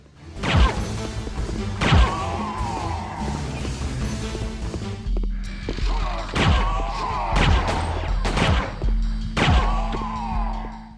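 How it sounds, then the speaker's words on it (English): Shotgun blasts from the Dutch retro first-person shooter AmsterDoom, several loud, harsh booms spaced a second or two apart over steady game music. "which is a shotgun with a terrible sound effect"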